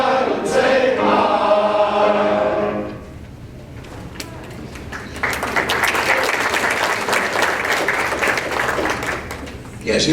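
An audience at a live show breaks into loud applause after a song, then someone speaks alone, followed by a fresh round of steady clapping.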